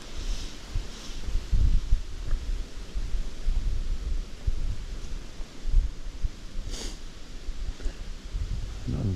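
Gusty wind blows steadily beside the Upper Yeo river, buffeting the microphone with low rumbling surges and a faint rustle throughout, with no talking.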